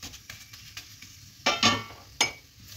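A methi paratha fries in oil with a quiet sizzle, cut by a few sharp scrapes and spatula turns against the pan, and no voices are present.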